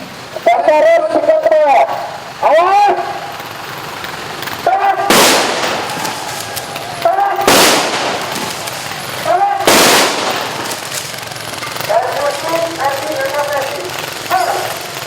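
Police anti-riot officers fire ricochet shots from a standing position during a 2014 election security simulation, three sharp loud bursts ringing out amid crowd shouting and outdoor commotion.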